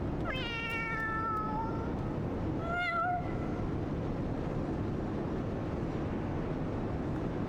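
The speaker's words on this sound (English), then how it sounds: "Cat." A cat meows in the Final Fantasy XIV video game: a couple of clear, rising-falling meows early on, then a steady wash of background noise.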